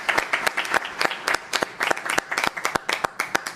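An audience claps and applauds at a meeting of state congress presidents, dense and sustained with sharp individual claps standing out close by, and no talk over it.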